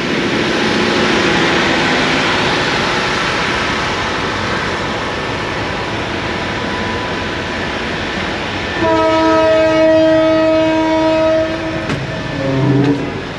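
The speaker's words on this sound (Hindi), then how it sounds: "KCR डाउन ट्रेन आ गई है मलिर कॉलोनी रेलवे स्टेशन पर" A KCR local down train pulls into Malir Colony railway station with a steady rumble and hiss, then sounds a loud sustained horn near the end.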